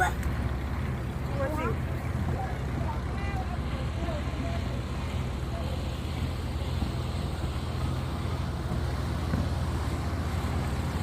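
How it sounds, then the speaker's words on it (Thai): A steady low boat engine rumble drones throughout on a river in Kanchanaburi, Thailand, with faint voices speaking over it. "น่าจะเสียงเรือนะ"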